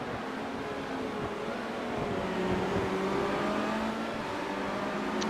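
Formula Renault race cars in a sim racing game at Okayama circuit drone past at a moderate distance, a faint steady engine whine with gently shifting pitch and no talk.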